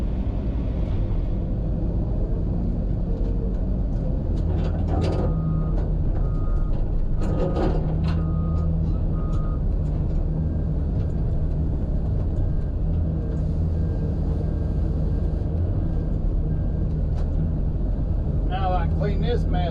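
A truck engine runs with a steady, close low rumble, with a few metallic clanks and knocks over it partway through.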